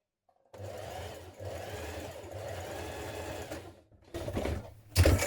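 Sewing machine stitching down the facing on a trapeze dress, a close, steady whirring run of several seconds that pauses briefly and then resumes with louder, firmer bursts.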